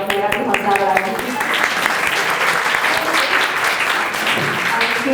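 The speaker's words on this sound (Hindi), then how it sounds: "तालियों के साथ उनका हौसला बढ़ाएंगे।" Sustained audience applause at an annual day function, dense and steady throughout, fairly loud and close, with a few voices mixed in.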